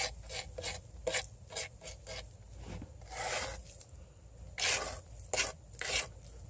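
A mark on an earthen wall is rubbed smooth, producing close, gritty rasping strokes in an uneven rhythm with sand scraping against the surface.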